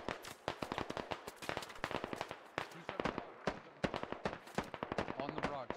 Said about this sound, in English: Heavy AR fire northwest, though